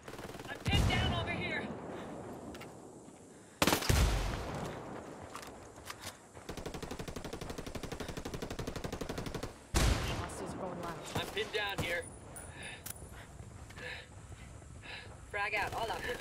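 Automatic gunfire bursts and heavy explosions from the video game Ghost Recon Wildlands, loud and close, with sharp blasts near the start and middle over a steady chatter of shots, mixed with shouted voices.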